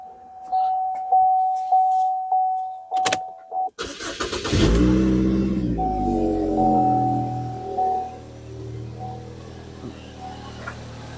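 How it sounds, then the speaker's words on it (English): A Chevy Equinox 2.4 engine starting: clicking and a warning chime first, then the starter cranks and the engine catches into a loud, steady idle up close. "All right, let's go start this bugger up."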